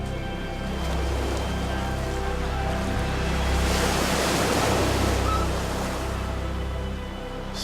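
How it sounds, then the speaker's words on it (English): Atlantic Ocean surf on the coast of Ireland, a steady wash of waves that swells into a louder, closer crash midway before easing off, with wind buffeting the microphone and no voices. "It's the first time I've ever seen the Atlantic Ocean."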